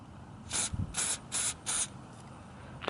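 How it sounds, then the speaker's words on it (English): Spray adhesive from an aerosol can misted onto a Christmas tree branch, four short hissing bursts in an even rhythm, close and fairly loud, with no talking. "So first I'm going to do the spray adhesive, and I'm just going to spray it right here on this branch."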